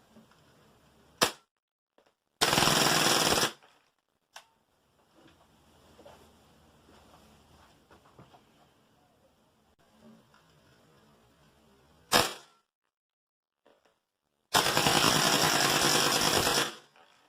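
An ASG MP9 airsoft gun fires regular BBs in short bursts: a quick snap, a sustained rattling burst, then another snap and a second long burst, loud and close with quiet handling noise between.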